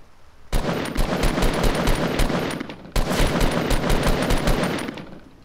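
Rapid automatic gunfire in Fortnite Mobile, two long sustained bursts of rattling shots separated by a brief gap, loud and up front with no talk.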